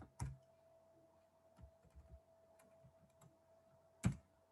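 Sparse clicks and taps on a computer keyboard while an email address is typed, a few soft keystrokes with two sharper clacks near the start and end, quiet against a faint steady hum.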